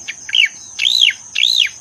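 Three clear, arching whistled bird notes, each a loud swooping phrase, sung close by over a faint steady high hum.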